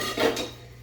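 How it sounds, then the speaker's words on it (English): A single short metallic clank of a pot set down in a sink, ringing briefly before fading into quiet. "I'm going to put my pot in the sink"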